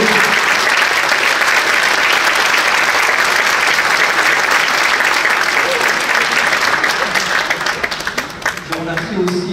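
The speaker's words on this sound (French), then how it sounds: "bien applaudir Samir Rodri et leur accompagnant" A theatre audience at a wind band concert applauds in a long, loud wave of many hands clapping. The clapping thins and fades near the end while a voice speaks over it.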